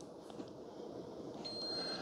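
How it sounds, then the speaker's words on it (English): A Ninja CFN601 espresso and coffee barista system beeps at the end of its brew cycle, giving a thin, steady high electronic tone in the second half over quiet room noise. "so it's beeping at us right at the 8 minute mark"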